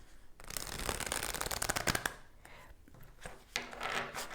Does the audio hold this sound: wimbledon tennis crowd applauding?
no